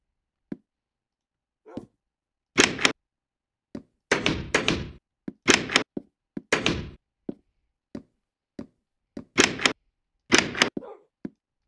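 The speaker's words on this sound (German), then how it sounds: "ich mach Türen auf und zu" Wooden doors in Minecraft opening and closing, a series of short hollow thunks and knocks, some spaced singly and others in quick pairs, close and fairly loud with silence between them and no talking.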